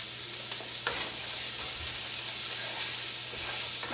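Onions soften in a frying pan with a steady, moderate sizzle and hiss, close by, broken by a few light stirring clicks and no talk.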